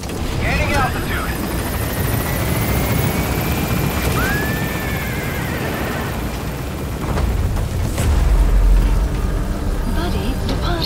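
A helicopter lifts off in Metal Gear Solid V, rotor thump and turbine whine building loud and close, with a pitch sweep midway and a deeper surge near the end, under radio-style voice chatter.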